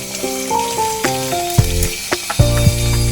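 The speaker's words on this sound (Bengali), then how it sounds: "তারপর তেলেতে মশলাটা কষিয়ে নিচ্ছি" Spices sautéing in hot oil left over from frying fish crackle and sizzle loudly and close, with tonal clinks and a few sharp spatula knocks against the pan.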